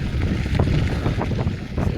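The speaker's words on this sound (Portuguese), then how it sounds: "Tá ventando demais aqui em cima" Strong wind on a mountain top along a trail above the Colorado River near Hoover Dam buffets the microphone with steady, loud roaring gusts throughout.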